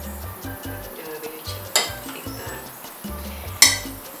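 Chopped tomato and garlic frying in a pan, stirred with a utensil that scrapes and knocks in a steady rhythm, with two sharp metallic clinks against the pan; close and moderately loud, with no talking.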